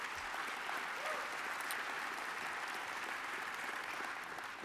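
Sustained audience applause at a downtown civic address in Sacramento, steady and fairly distant, filling the whole stretch with dense clapping from a large crowd.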